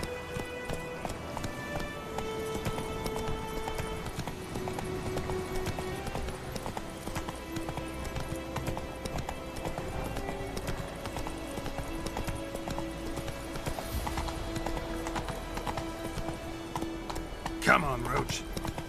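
Hoofbeats of the horse Roach gallop steadily in The Witcher 3, a continuous rhythmic clip-clop under game music, with a brief whinny near the end.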